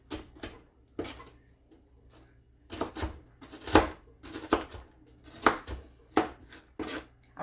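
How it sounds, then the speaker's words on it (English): Knife chopping food on a cutting board during fried chicken prep, a series of sharp, irregular thuds and taps close by, with quieter scraping between the louder strikes. "I'm just going to chop them up a little bit."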